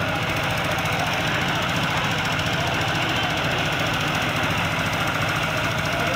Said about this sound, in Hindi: भाई बैक कर रही है पीछे ट्राली